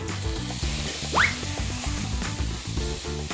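Canned fish and fried garlic sizzle steadily as they are stir-fried in a pan for glass noodles, a close continuous frying hiss with one brief sharp sputter, under light background music.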